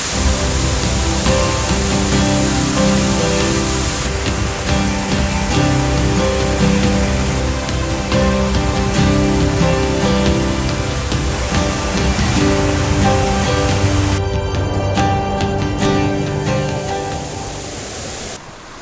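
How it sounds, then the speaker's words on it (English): DeCew Falls waterfall in St. Catharines, Ontario roars as a loud, steady rush of falling water, continuous broadband noise that fades slightly near the end, with no talking. "We found the third set of falls"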